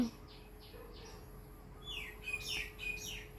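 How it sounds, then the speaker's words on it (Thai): Birds chirp in short, high tweets against a quiet outdoor background, faint at first, then brighter and more frequent. "ดูเสียงนกสิ"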